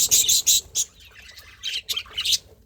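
Baby birds squawk loudly and close by in shrill, rapid bursts, with several clustered cries at the start and another run of calls near the end, separated by short quiet gaps.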